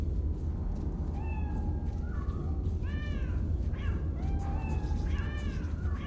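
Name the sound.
cat meow sound effect from a game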